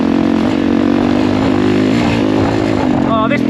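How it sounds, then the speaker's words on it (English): A 450 enduro motorcycle engine revs hard and steadily while climbing during a Welsh extreme enduro race, loud and close throughout, with wind buffeting and no speech. "Oh, this bike is so good at those climbs."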